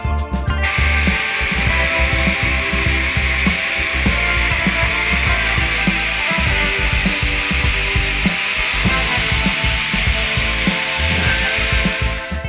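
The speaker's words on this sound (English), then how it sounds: "use a disc sander with 180 grit sandpaper and sand the rest of the paint off those edges" A disc sander fitted with 180 grit sandpaper grinds paint off a car roof's edges, a steady loud whirring rasp with constant scraping texture throughout.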